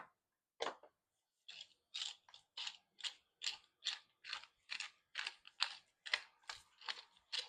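A pepper mill grinding black pepper over roasted red peppers dressed in olive oil, a close, quiet run of about fifteen crisp ratcheting twists in steady rhythm after a brief pause.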